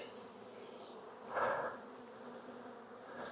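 Honey bees humming in an opened hive during a queen check, a steady close insect drone with a brief louder swell as bees rise, no talking.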